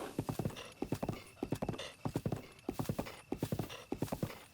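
Horse hooves clip-clopping in The Legend of Zelda: Breath of the Wild, a steady galloping rhythm of close, loud hoofbeats repeating in quick clusters throughout, with no talk over them.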